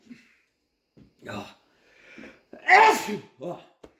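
A loud, close sneeze from someone with a head cold bursts out midway, bracketed by quieter breathy sniffs and small throat sounds before and after.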